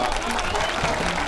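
Crowd applause at the Banaz Yörük festival, a steady wash of many hands clapping close by for just over a second, with a faint murmur of voices underneath.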